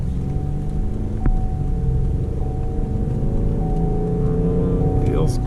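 A Chevy Equinox with a 3.0 V6 and about 110,900 miles, listed for loss of power and smelly exhaust, accelerates hard on a test drive: a steady, loud low engine rumble heard from inside the cabin, with no talk.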